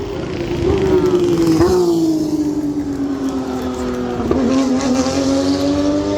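A race car passes on the Monza circuit with a loud, steady engine drone that shifts pitch as it goes by, then a second rising whine near the end. Voices talk faintly underneath.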